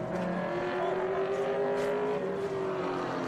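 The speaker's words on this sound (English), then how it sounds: "That's a backwards bump start." Vintage race car at Laguna Seca being bump started backwards, its engine catching with a rising, wavering mechanical whine and drone, fairly close, over steady track background noise.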